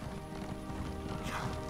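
A horse's hooves clip-clopping at a trot while riding in Elder Scrolls Online, a steady faint rhythm under a busy game soundscape, with no talking.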